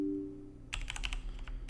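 A command typed on a computer keyboard for a Minecraft server, a quick run of close, crisp key clicks after a brief quiet moment, with no talk.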